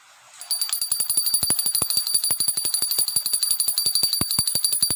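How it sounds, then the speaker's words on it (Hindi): A small brass hand bell rings rapidly and steadily during aarti worship for a Laddu Gopal idol, bright repeated clangs close up with no voices. "फिर हम घंटी बजा करके आरती करेंगे।"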